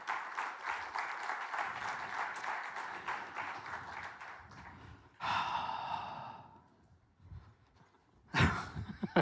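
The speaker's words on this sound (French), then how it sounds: "Vous pouvez continuer d'applaudir," Audience applause at a sponsored event on remote-era meetings, a steady crowd clapping for about five seconds that briefly swells again, then fades, followed by a sharp burst near the end.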